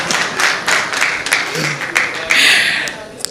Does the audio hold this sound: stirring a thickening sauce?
no